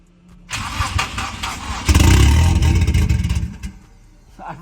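A Lexus SC300 engine with no exhaust cranks briefly, then catches and roars up loud and raw, revving hard before dropping back toward idle, very close.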